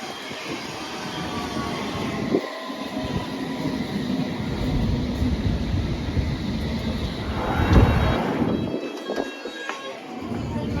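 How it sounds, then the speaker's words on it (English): A Bombardier S-Stock London Underground train runs near East Putney with a steady rumble and rail noise, swelling to louder screeches and clatter toward the end, with no talk over it. "Our second train type of the day, a Bombardier S-Stock."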